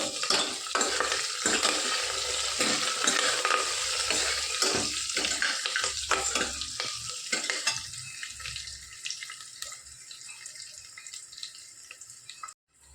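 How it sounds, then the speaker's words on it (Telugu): Curry leaves crackle and sizzle in a hot pan, loud and dense at first with stirring scrapes, then gradually thinning and fading toward the end. "కరివేపాకు వేయాలి. ఇది కొద్దిగా ఫ్రై చేసుకోవాలి."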